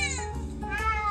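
A house cat meows at cats on a television screen, giving one short, close, wavering meow that rises and falls in pitch.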